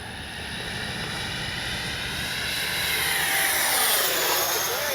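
A 64mm EDF RC jet model of a MiG-29 roars past at full speed, its high whining whoosh building and sweeping in pitch as it nears and passes close overhead, steady and loud.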